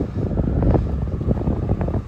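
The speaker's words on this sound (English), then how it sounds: "a bit windy." Strong wind buffets the microphone at Oxford Castle with a low, rumbling roar that stays loud and gusty throughout.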